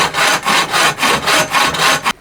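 A bow saw cuts through wood in steady, rhythmic back-and-forth strokes, loud and close, about seven rasping passes before stopping.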